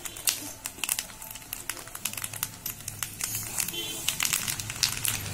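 Four spoonfuls of mustard seeds crackle and pop in hot oil for a chivda tempering, a steady, dense run of sharp, close snaps over a low sizzle, heard alone.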